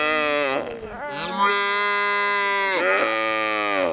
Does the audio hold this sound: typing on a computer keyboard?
no